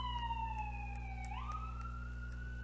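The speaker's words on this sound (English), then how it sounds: "I'm going to try to sneak down there while this ambulance goes by" An ambulance siren sounds quietly in the distance, one sustained wailing tone that slides down and then shifts pitch as the vehicle passes, over a steady background hum with no talk.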